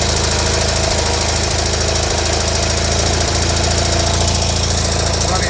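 A John Deere 520H tractor engine with 824.5 hours runs steadily at idle, a loud, continuous knocking rumble with no pause, close and unbroken throughout.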